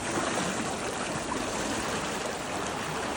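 Puwa Khola, a mountain stream, rushes in a steady, dense hiss and roar, close by and unbroken, with no voices.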